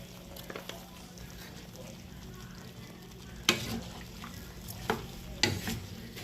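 Mixed vegetables cook in a pan seasoned with oyster sauce, giving a steady low sizzle with a faint hum underneath and a few sharp clinks of a spatula or utensil against the pan.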